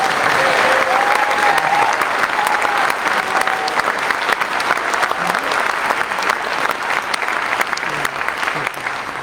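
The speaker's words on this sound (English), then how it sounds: "this would be a good time if you want to clap again to show that support" Sustained, dense applause from an audience at the Flat Fire community meeting in Sisters fills the room for the whole stretch, loud and steady with a few faint voices mixed in.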